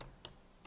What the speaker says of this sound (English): So let's type in sudo